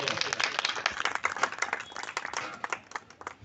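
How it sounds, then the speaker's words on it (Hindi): Congregation applause at a church gathering, dense rapid clapping from many hands filling the room, steady and fairly close, with a faint voice beneath. "प्लीज आप तालियों से स्वागत कीजिएगा।"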